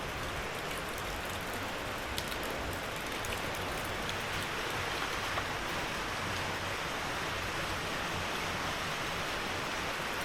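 Steady heavy rain in an abandoned village hisses as a dense, continuous wash, with occasional sharper drops tapping nearby surfaces.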